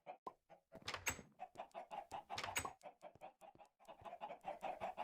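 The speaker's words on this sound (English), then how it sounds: "these chickens sure pump the eggs out, don't they?" Chickens cluck steadily in a Minecraft game, a busy run of short repeated clucks and squawks close up, with no talk over them.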